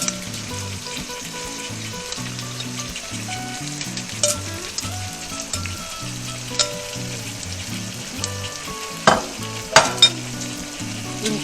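Pork fries with browned garlic in a pan for Peruvian adobo de cerdo, giving a steady sizzle with occasional utensil clinks and stirring, under background music.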